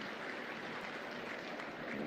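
Applause from the crowd at a county 4-H beef cattle and market steer show: a steady, even wash of clapping, fairly faint and distant, with no talk over it.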